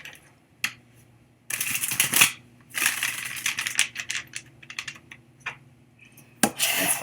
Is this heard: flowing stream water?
no